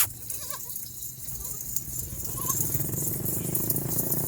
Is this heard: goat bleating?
yes